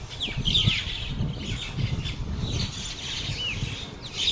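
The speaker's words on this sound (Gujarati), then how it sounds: "પોપટ, કબૂતર, કાગડા, કાબરો, અઢળક પક્ષીઓ મારા આંગણે આવે છે" A large mixed flock of parrots, pigeons, crows and mynas gathers in a home yard, giving a continuous busy chorus of squawks, chirps and calls with occasional wing flaps, fairly close and steady throughout.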